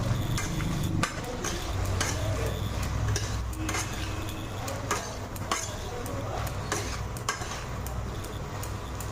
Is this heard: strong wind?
no